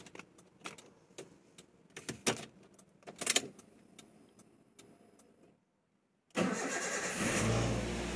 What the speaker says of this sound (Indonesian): kita coba nyalakan mesinnya sekalian dipanasi